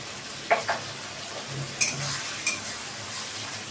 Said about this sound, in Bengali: একটু মশলাটা একটু কষে নেব।